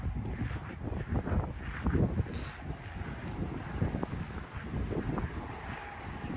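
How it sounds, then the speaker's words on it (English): Strong gusts of wind buffet the microphone outdoors in a garden by a pergola, a steady roaring rumble with louder surges throughout and no talking. "I hope you can hear me from all this wind."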